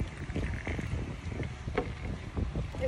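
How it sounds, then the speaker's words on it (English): Wind blowing outdoors beside a park lazy river, a low, steady rumble with gusty buffeting across the microphone, fairly soft and continuous, with no clear talk. "Not cold, that's just wind."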